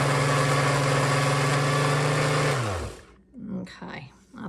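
A countertop appliance spins granulated sugar into powdered sugar with a loud, steady high-pitched motor whir that winds down and stops, followed by lid handling and clattering sounds.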